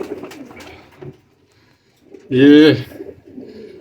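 Sialkoti breed pigeons give a single loud, close coo in the middle, with someone talking softly before and after it.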